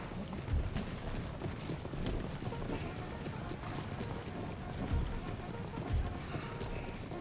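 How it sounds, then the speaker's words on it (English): Enemy cavalry horses gallop in an Empire Total War battle: a steady, close drumming of hoofbeats with a few heavier thuds, running under dense battle noise throughout. "Here comes their horse"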